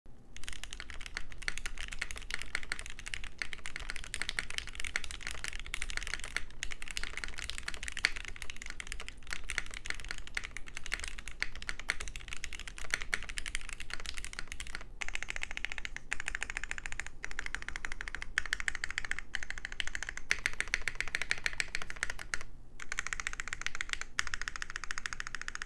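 Steady, fast typing on a plateless mechanical keyboard with soldered switches, a dense run of clacky keystrokes over a faint background hum with a few brief pauses, no voices.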